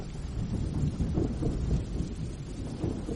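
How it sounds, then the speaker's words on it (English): A thunderstorm rumbles with low, rolling thunder over steady rain, a dense continuous wash of sound without any voices. "I'll leave the thunderstorm on for you a little bit longer to help you sleep"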